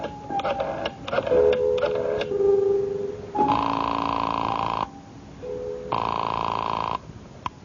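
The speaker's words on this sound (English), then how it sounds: "I went to a phone and dialed my number and waited for it to ring." Old-time radio drama sound effects of a telephone being dialed, with clicks and short tones followed by long steady ringing or ringback tones in even repeated blocks, near and fairly loud.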